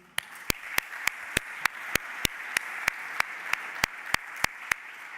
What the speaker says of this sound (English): So with a last round of applause, thank you.